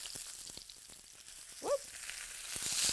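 Salmon with sautéed onions sizzles steadily in a hot pan just after being flipped, a continuous bright hiss with faint scraping and a short voiced exclamation in the middle.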